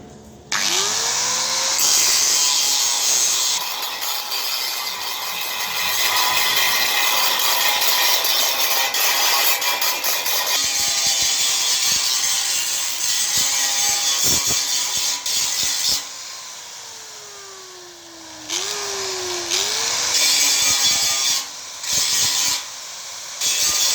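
A grinder works on a car bumper, its loud high whine running almost continuously with brief dips and pitch shifts as it bears on the surface.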